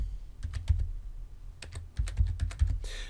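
Phone number being typed on a computer keyboard while filling in a laundry loyalty card registration, heard as close, irregular bursts of keystrokes with brief pauses between clusters and a faster rattle at the end.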